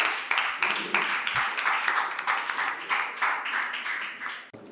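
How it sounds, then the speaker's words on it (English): Conference audience at a school debate event applauding a speaker being welcomed on stage, steady dense clapping from a crowd filling the room before it quickly stops. "With a round of applause, please."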